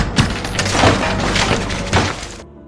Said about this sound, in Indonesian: menghujani rumah dengan tembakan hingga kaca jendela hancur berkeping-keping